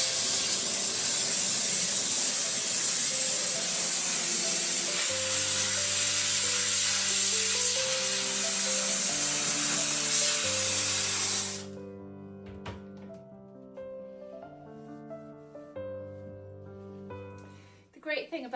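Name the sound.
steam cleaner squirting steam inside dishwasher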